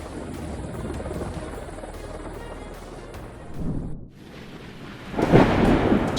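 Thunderstorm over Seattle during a lightning storm, with rolling thunder rumbling continuously, a brief lull, then a louder, nearer crack and boom toward the end over steady storm noise.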